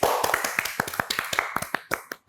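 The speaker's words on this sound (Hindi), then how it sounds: "तालियां होनी चाहिए।" Sparse, uneven hand claps from a talk show audience, a burst of separate sharp taps spread over a couple of seconds rather than a full ovation, fairly close and with no voices.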